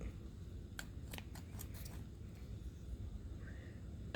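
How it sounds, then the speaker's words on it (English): Scissors snipping a yarn tail during knitting give several quick, faint clicking cuts in a cluster, close by, with no talking over them. "Those scissors need to be fixed."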